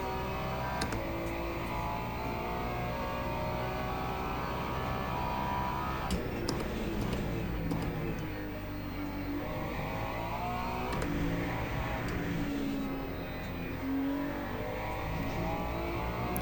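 A Ferrari race car engine in the Le Mans Ultimate racing game roars steadily throughout, rising and falling in pitch through gear changes and revving, loud and close.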